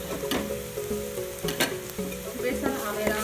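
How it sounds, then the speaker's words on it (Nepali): Onions and ginger-garlic paste sizzle in a pan as turmeric is stirred in for a Nepali curry, a loud close frying hiss broken by repeated scraping stirs of a spoon against the pan. "बेसार हालेर मजाले राम्रोसँग चलाउने।"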